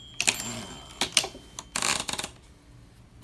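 A vintage Olympia typewriter clacks in quick irregular keystrokes with sharp metallic strikes and a ratcheting carriage return, close and fairly loud.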